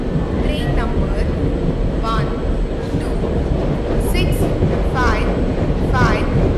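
A train rumbles steadily along with a low roar and rhythmic rattling, while a voice makes a platform announcement over it, in Indian Train Simulator.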